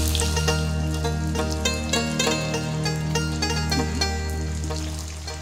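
Taki fish fries in a pan of cooked spice masala, a loud, steady sizzle with crackling pops scattered throughout, close and uninterrupted, with no talking.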